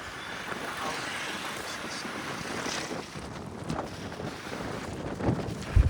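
Strong wind in Ahmedabad buffets the microphone in a steady, loud rush of broadband noise that lasts the whole stretch, with a few sharper gusts near the end and no speech.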